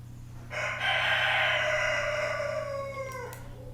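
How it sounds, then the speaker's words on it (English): A cockerel crows once at close range, a loud drawn-out call rising then trailing off over about three seconds against a low steady hum, with no voices. "Really should stick that cockerel in the pot."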